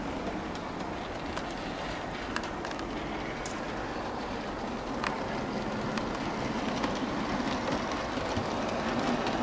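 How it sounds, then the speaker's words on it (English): Hornby model railway coaches roll smoothly along the track, a continuous close rumble and whir with faint, irregular clicks over the rail joints and no voices. "As for the coaches themselves, they really are smooth runners."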